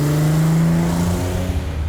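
A classic BMW with a 2.4 engine revs close by, a strong sustained drone whose pitch holds and then eases slightly over two seconds.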